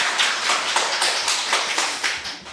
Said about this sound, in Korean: 박수를 치려면 확실하게